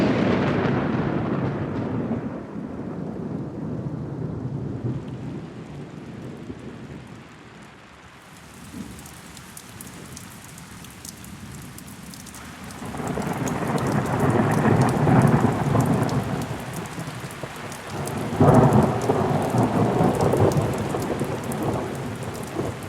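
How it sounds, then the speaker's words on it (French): Heavy rain pours down in an Indonesian primary forest, with deep thunder rumbling loud and close at the start and again partway through, steady downpour throughout and no voices. "Ça y est, la pluie est là"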